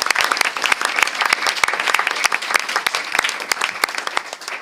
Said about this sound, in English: A round of applause for our staff